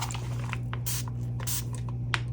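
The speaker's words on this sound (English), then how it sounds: "Actually, I'm going to try to spray it." Resin is sprayed into an opened-book mold in a few short hissing bursts over a steady low electrical hum, close and fairly quiet, with small scratches and taps between sprays.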